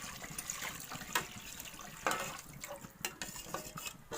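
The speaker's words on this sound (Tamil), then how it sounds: "இதுக்கப்புறம் பார்த்தீங்கன்னா இந்த கார்ன் பவுடர் போட்ட தண்ணியை நம்ம இதில் ஊற்றுறோம்." Cornflour mixed with water poured into a simmering mushroom masala gravy in a pan, soft liquid splashes and stirring with a few sharp clinks of a utensil against the pot, close and fairly quiet.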